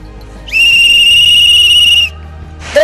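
A loud, single sustained whistle blown by a person outdoors in the Buzău Mountains, holding one steady pitch for about a second and a half before cutting off, with another note starting at the end.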